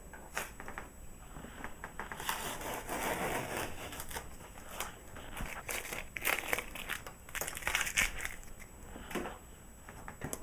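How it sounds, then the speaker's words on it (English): Painter's tape peels off the borders of a painting in a series of close crinkling, tearing pulls, some quick and some drawn out, with short pauses between them. "take off your tape and reveal your borders"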